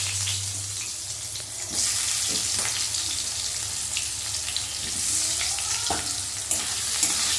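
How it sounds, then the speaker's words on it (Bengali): Diced potato tossed into hot oil over fried tempering spices sizzles loudly and steadily in a pan, with occasional stirring scrapes and clinks close by and no talk. "ফোড়নটা একটু ভাজা হয়ে গেলেই এর ভেতর দিয়ে দিচ্ছি আমি ডুমো করে কেটে রাখা একটা আলু"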